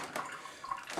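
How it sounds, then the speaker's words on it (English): Lukewarm water poured into a glass for rehydrating beer-kit yeast, a soft, steady trickle with faint splashy bursts, quiet and close, with no talk. "Put that much water in the glass."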